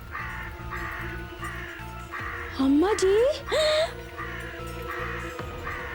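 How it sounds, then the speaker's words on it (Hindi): A flock of crows caws in several loud, sharp bursts over a steady rhythmic music bed, with a person speaking briefly nearby. "इतना सारा कौवा।"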